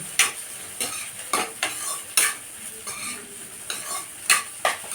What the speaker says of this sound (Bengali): আমি এবার এটাকে ভালো করে একটু তেলে ভালো করে ভেজে নিচ্ছি